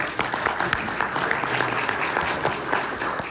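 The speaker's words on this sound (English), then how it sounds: "let's have a round of applause for David" A room full of people applauds for David, a thick, steady clatter of many hands with sharp individual claps poking through, filling the whole stretch without any voices.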